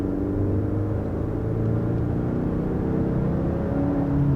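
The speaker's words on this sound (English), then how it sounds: "it just is slightly enhancing the engine sound." Steady, deep engine hum of a 2021 Genesis GV80 Prestige with synthetically enhanced engine sound, heard from inside as the car accelerates, a low continuous drone with no talk.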